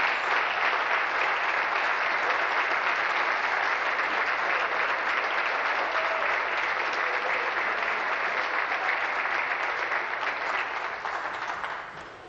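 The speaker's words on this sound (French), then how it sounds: "je voudrais que l'on l'applaudisse" Sustained applause fills a legislative assembly chamber during question period, dense and even for about twelve seconds before starting to fade at the close.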